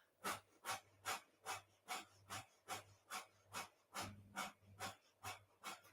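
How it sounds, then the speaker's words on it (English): Rapid, rhythmic breath of fire during a Kundalini yoga practice: about a dozen sharp, even nasal exhalations in steady succession, close and fairly quiet, with no talking. "breath of fire"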